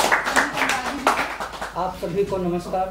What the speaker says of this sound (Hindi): आप बहुत जोरदार ताली से स्वागत करें